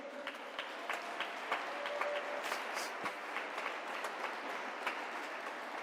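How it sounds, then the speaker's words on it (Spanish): A church congregation at a Sunday service applauds together, a dense, steady wash of many hands clapping with scattered sharper claps rising from the crowd for several seconds. "Dale ese aplauso a Dios."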